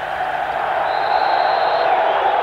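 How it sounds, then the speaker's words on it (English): A packed stadium crowd at Ramat Gan during the 1989 Israel vs Australia World Cup qualifier football match roars in a steady, dense wash of cheering, continuous and loud throughout with no clear talk on top. "the crowd has responded tremendously well"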